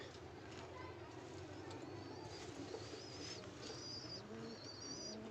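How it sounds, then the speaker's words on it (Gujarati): Pigeons in a breeding pen, including a golden pigeon, coo softly with a few higher chirps, steady against a constant background hum. "આ મારા ઘરનો ગોલ્ડન કબૂતર છે દોસ્તો"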